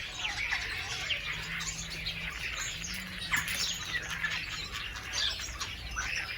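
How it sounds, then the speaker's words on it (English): Starlings chirping and squawking from a walnut tree in a village setting in Ukraine, a busy, faint flock chatter with a low hum of distant ambience underneath. "Starlings, perched on the top of the walnut tree, chirping happily, meet the morning sun."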